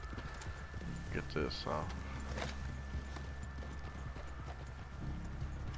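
Horse hooves clip-clop at a steady walking pace in Red Dead Redemption 2, set over a constant low hum, while voices talk over the hoofbeats.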